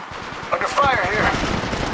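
Brief burst of rapid automatic gunfire in a video game, close and loud, with a voice partly overlapping.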